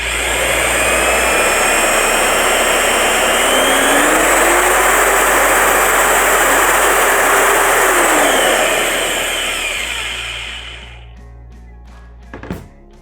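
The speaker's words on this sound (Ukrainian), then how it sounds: "Вмикаємо другу швидкість. І слухаємо другу швидкість." A Procraft construction mixer runs at its second speed, a loud, close, steady high-pitched motor whine with shifting tone that winds down and stops near the end, followed by a brief clunk.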